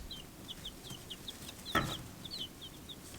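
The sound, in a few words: bantam chicken mixes clucking on a farm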